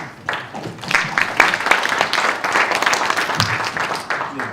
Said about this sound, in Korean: 다시 한번 좋은 강의를 해주신 연사분과 사회자분께 큰 박수 다시 한번